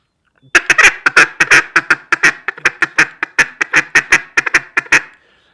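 Rapid, loud quacking from a duck call in a steady run of about twenty short bursts, imitating two or three feeding ducks calling over one another.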